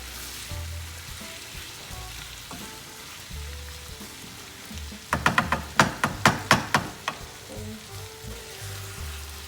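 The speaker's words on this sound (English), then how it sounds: "I'm just adding it all together, and I'm gently stirring it in as ackee is very delicate" Ackee and saltfish cook in a frying pan under a low steady sizzle, interrupted midway by a quick run of about eight sharp utensil taps and scrapes against the pan, close by and with no talk.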